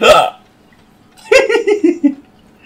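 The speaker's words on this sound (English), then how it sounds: "Your hiccup was perfectly timed." A single sharp hiccup, followed by a burst of giggling laughter that trails off in several short pulses.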